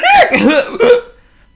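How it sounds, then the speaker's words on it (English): A cartoon character gives a sharp, voiced hiccup followed by a couple of squeaky vocal bursts, close and loud, fading into silence. "I've got the hiccups!"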